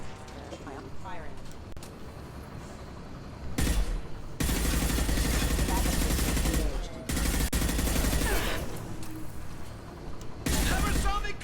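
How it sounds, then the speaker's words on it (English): Loud bursts of automatic gunfire in Mass Effect 2, coming in long sustained volleys separated by brief lulls, with voice chatter during the quieter stretches. "Firing."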